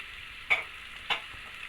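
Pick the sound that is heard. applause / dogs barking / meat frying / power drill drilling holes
meat frying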